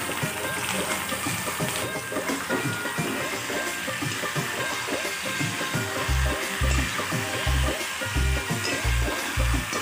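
Chicken meat and onions frying in a pan for a local chicken curry, a steady, close sizzling crackle throughout, joined near the end by a run of regular soft low thumps.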